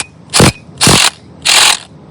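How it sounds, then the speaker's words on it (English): Three short bursts of a power tool driving a shifter bolt on a Honda Rebel 300 motorcycle, loud and close, each about a quarter second long and evenly spaced, alone without speech. "get it started by hand and then finish it off with your impact"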